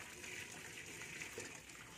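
Cooking water from boiled pancit canton noodles pouring out through a drainer, a steady close gushing splash that runs without a break for the full two seconds.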